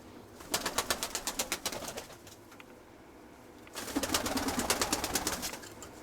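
A pigeon flying near the loft gives a rapid series of sharp wing claps, then a quiet gap, then a fluttering burst of flapping, close and moderately loud.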